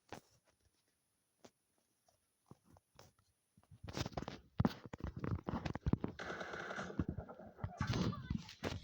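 Gunfire in a 1v1 video game match: a few sparse clicks, then dense rapid bursts of sharp shots and impacts for several seconds, moderately loud and close.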